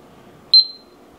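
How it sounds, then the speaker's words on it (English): A kitchen timer being started while instant Indomie noodles cook gives a single short, high electronic beep in an otherwise quiet room. "So here is my timer. Going to start it."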